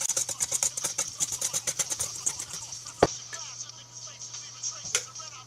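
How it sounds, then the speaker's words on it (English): Mixer beating banana bread batter as sugar is added, a rapid pulsing whir up close that eases off partway through, with a sharp clack midway. "Now you just want to mix it. Gotta get nice and lumpy. Add your sugar while mixing it."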